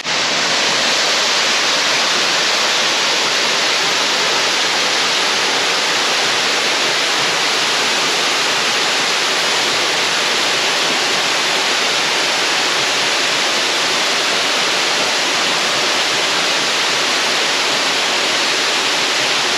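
Waterfall in Oz during rain, a steady roaring rush of falling water close by, dense and unbroken throughout with no voices.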